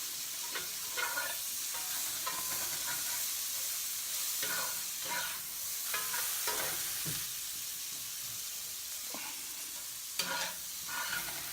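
Vegetables sizzle gently in oil in a pan for Cajun chicken sausage pasta, a soft continuous frying hiss with occasional scrapes and stirring clatters, close and fairly quiet, no talking.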